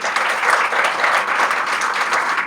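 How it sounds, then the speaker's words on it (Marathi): Steady, dense applause from an audience cheering a dancer at a solo performance, loud and continuous throughout without pauses. "सर्वप्रथम मी आमची मैत्री मृण्मयीसाठी जोरदार टाळ्या होऊन जाऊ दे"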